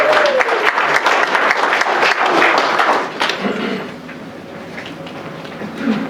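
A Veterans Day crowd applauds a retired U.S. Navy commander of 24 years, loud dense clapping for about three seconds that then thins out and fades into quieter room noise.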